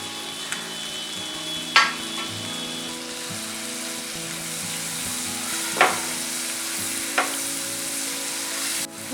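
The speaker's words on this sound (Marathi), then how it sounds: "बटर वितळलंय आता मी कांदा घालत आहे हा आपल्याला परतवून घ्यायचा आहे" Chopped onion sautéing in melted butter in a pan, a steady close sizzle with a few sharp stirring clacks of a utensil against the pan, no voices.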